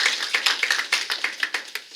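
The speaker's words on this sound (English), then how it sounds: "We should clap." A town hall audience claps in a light, scattered way. The sharp, uneven hand claps come from several people at a modest distance, with no voices over them.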